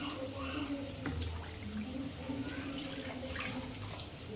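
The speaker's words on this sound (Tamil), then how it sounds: "அதுக்கு 5 கப் தண்ணி ஆட் பண்ணுறேன்." Water poured into a pot of rice, a steady continuous splashing and trickling wash that runs nearly unbroken, fairly faint and close.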